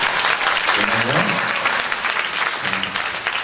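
Applause from a youth congregation at a church worship night, honoring the high-school seniors; dense clapping fills the room throughout, with a couple of brief voices calling out over it.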